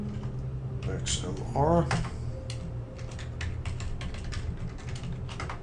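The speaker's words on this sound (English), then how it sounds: "I'm going to go ahead and I'm going to type in the IP address" Quick bursts of key clicks on a computer keyboard as an IP address is typed, with a person speaking briefly over the tapping.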